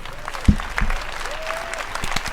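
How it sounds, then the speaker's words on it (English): Round of applause for game developers at the EA E3 2018 press conference, a short stretch of crowd clapping under a sharp thud and faint tones, fairly distant. "Let's give them all a round of applause"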